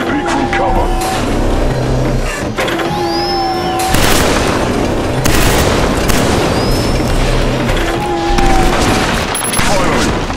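Steady rattling gunfire and booms in the Killzone 3 shooter run through the whole stretch, loud and continuous, with occasional whooshing effects and a voice speaking over it.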